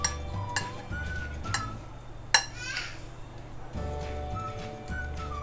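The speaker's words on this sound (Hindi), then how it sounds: "अब इन सबको भी मिक्स करना है हमें अच्छे से।" Chickpea chaat being mixed with salt, chili powder and chaat masala, giving scattered clinks and scrapes of a spoon against a bowl, with a few sharper taps over a low steady background hum.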